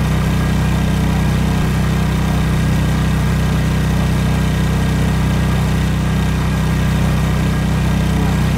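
Motorized boat engine in the survival game Stranded Deep, a steady droning hum that runs loud and unbroken throughout with no talk over it.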